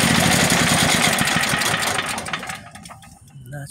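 Firman H07552 generator converted to run on natural gas, choke on, its engine chugging loudly and unevenly up close before sputtering and dying away near the end.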